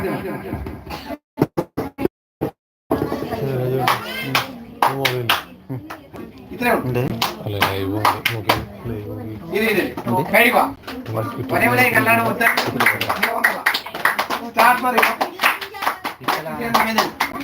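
A group clapping hands together during a live session, bursts of claps broken by short pauses and mixed with a speaking voice, fairly close and moderately loud.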